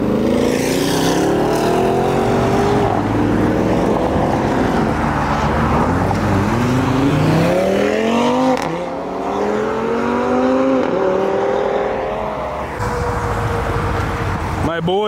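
Two Audi RS6s and an Audi RS3 roll out of a car show, their engines rising and falling in loud revving sweeps as they pass nearby, with crowd noise and voices in the background.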